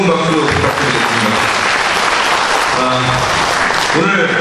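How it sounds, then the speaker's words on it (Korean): A crowd at an outdoor protest rally condemning Kim Jong-il over the Cheonan sinking applauds loudly and continuously, while an amplified voice speaks over the clapping. "다시 한번 뜨거운 박수로 부탁드리겠습니다"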